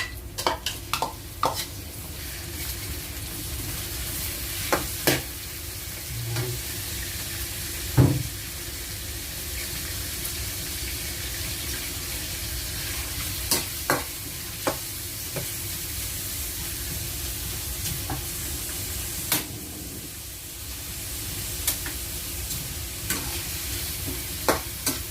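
Shrimp sizzle and fry steadily in a hot pan, with a utensil scraping and stirring in scattered clicks and scrapes throughout; a continuous close, even frying hiss with no talking.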